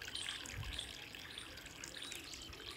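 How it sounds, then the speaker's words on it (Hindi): Water from a motor-driven pump gushing steadily onto farm fields, a continuous rushing splash that stays fairly quiet and even, with no talking. "हमारी मोटर पानी देती है"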